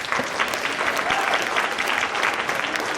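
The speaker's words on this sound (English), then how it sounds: "Round of applause for yourselves." Sustained applause from the audience at a school winter instrumental concert with band and orchestra, a dense, steady wash of many hands clapping close by for about three seconds.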